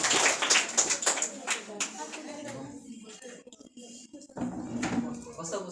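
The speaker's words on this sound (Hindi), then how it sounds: "ताली इसके लिए मारो" Children in a classroom break into a short burst of clapping near the start, with a teacher's voice talking before and after.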